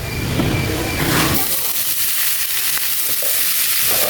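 Khesari greens tossed into a spice paste frying in a pan, giving a loud, steady sizzle with stirring, the sharp initial hiss settling into continuous frying noise.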